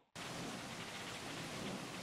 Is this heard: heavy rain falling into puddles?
yes